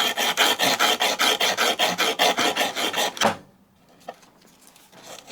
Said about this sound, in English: If you've got sandpaper like this that's got the fabric backing, you can just pull a little section off to actually do this part.